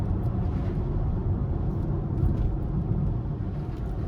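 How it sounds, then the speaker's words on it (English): A fifth-generation Chevrolet Camaro SS is driven in the rain, its engine giving a steady, deep, loud rumble that holds close and constant throughout. "That's crazy how good this car sound when it open up though."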